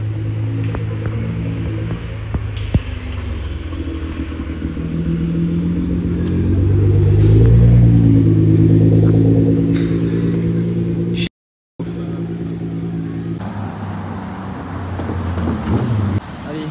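A Lamborghini Urus drives past on a Saint-Tropez street, its deep engine rumble swelling louder and revving as it nears, then fading into steady traffic noise.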